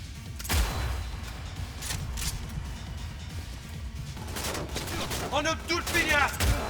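SMG rifle gunfire in Cyberpunk 2077, a burst of rapid shots amid game noise and music, with a louder thump near the start and another toward the end, mixed with speech-like sounds.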